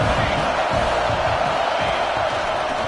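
A stadium crowd at an American football game roars on a big third down, a dense, constant wall of cheering that stays loud and even from start to finish.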